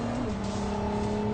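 A Ferrari hybrid supercar accelerating, its engine producing a loud, steady, droning roar with strong tonal layers that hold almost level throughout.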